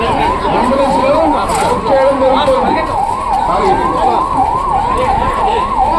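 An ambulance siren wails loud and close in a continuous rising and falling cycle during a fire department mock drill, with people talking faintly beneath it throughout.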